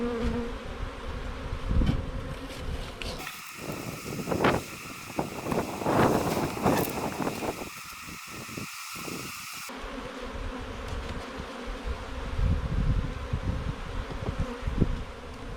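Honey bees swarm and buzz around an open hive box during a queen introduction, a steady droning hum close to the microphone with some wind buffeting and no talking.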